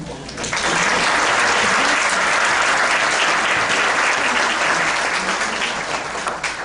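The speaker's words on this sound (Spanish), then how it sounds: "te recibimos, Eduardo Martínez Telmes, con un aplauso bien merecido" A university audience breaks into loud, sustained applause for the rector, dense clapping swelling within the first half second and holding steady until near the end.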